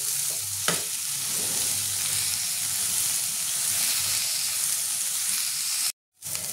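Tomato and garlic frying in a pan for an eggplant bharta, a steady broadband sizzle close by with one sharp clink early on and a brief dropout near the end; no one speaks.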